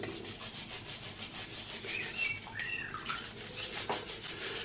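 Tri-ang/Hornby R113 steel drop side model railway wagon being cleaned by rubbing, heard as rhythmic close scrubbing strokes repeating about twice a second, with a few small squeaks, with no talking.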